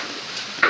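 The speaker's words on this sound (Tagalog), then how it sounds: "Bakit halo ka ng halo?" Igado of liver and pork is stirred in a pan, a soft steady sizzle with a brief scraping clink of a utensil near the end, close and short.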